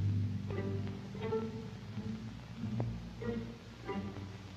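Orchestral strings play soft pizzicato notes plucked with the fleshy pad of the finger, giving a few rounded, warm plucks spaced over a low sustained tone, moderately quiet with no talking.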